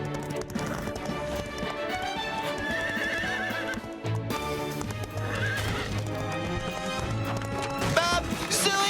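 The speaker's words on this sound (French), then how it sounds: "Où sont mes chevaux de course? Ils sont partis par là." Cartoon racehorses neigh and gallop with clip-clopping hooves, set among busy background music and effects, loud and close.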